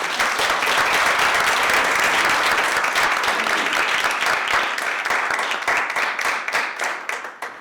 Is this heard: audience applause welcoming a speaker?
yes